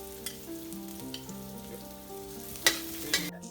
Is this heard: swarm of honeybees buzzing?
no